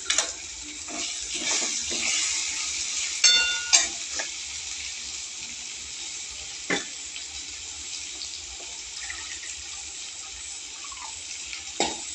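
Two bowls of water pour steadily into a pan of peanut-powder curry with leftover crushed peanuts, a continuous close hissing splash with a few brief clinks along the way.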